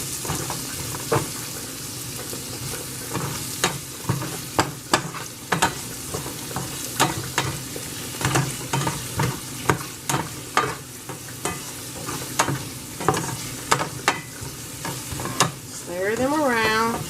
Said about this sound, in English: Stir your onions around.